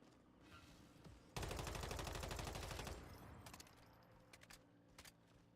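A single sustained burst of assault rifle fire in Once Human, rapid evenly spaced loud shots for about a second and a half, then a few faint scattered clicks and distant pops.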